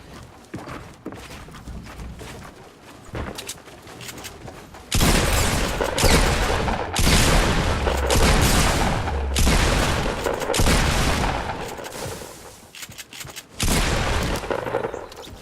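Fortnite video game gunfire erupts in loud bursts, rapid repeated shots and booms clustering into sustained volleys with brief gaps, alongside footstep-like clatter.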